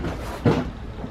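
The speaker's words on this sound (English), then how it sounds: "And so you raise the door and know that we have our door lock." An interior door panel on a 2009–2020 Dodge Journey is lifted into place, giving a single close plastic knock and scrape midway through amid quiet handling noise.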